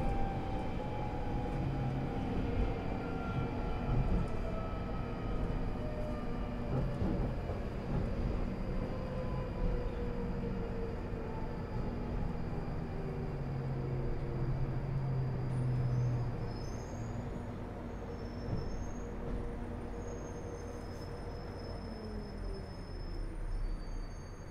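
A London Underground 1995 Stock train on the Northern Line between Edgware and Hampstead runs steadily for the whole stretch, with continuous low rumble and rising-and-falling motor whine tones, plus brief high squeals near the end.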